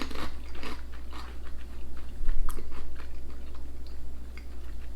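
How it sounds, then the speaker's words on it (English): Spicy Thai snack rings shaped like hula hoops are bitten and chewed, giving a run of sharp, close crunches at an uneven pace over a steady low hum, with no talking. "Same hula hoop crunchiness."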